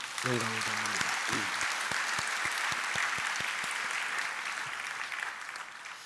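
A church congregation claps together during a worship service, a sustained wash of applause that starts with a short spoken voice and fades slightly toward the end.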